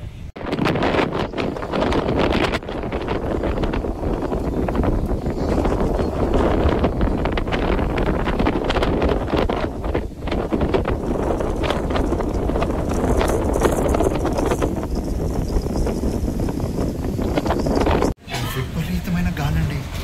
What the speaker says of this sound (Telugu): విపరీతమైన గాలి అండి, అంత ఎక్కువ వేస్తుంది గాలి